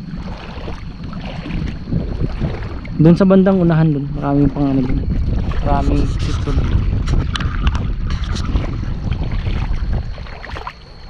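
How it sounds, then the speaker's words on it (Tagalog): Gusty wind buffets the microphone on a fishing boat in rough, choppy seas, a constant low rumble under someone talking, with brief other voices in the background. "Masyadong maalon lang, mahangin"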